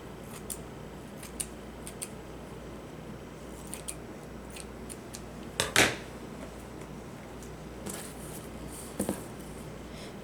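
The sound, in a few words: scissors cutting green shiny fabric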